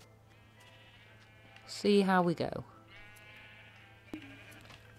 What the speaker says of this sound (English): Right, so I have spent an eternity shearing up sheep.